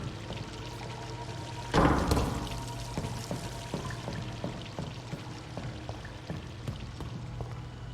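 Water gushes and pours loudly in the video game Vampyr, a sudden splashing surge that then settles into a steady trickling stream with scattered drips over low ambient hum.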